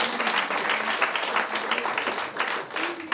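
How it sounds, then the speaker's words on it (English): Audience applause following a speaker's call for a big round of applause, a dense steady patter of many hands lasting a few seconds, with faint voices mixed underneath. "Can we give a big round of applause to Dr. Isra?"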